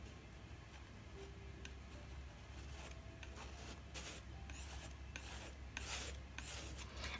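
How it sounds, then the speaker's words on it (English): A palette knife scrapes paint across paper in a run of short, rasping strokes that grow slightly stronger toward the end, quiet and close with no voices. "get it on the bottom of your palette knife and you can also scrape it away"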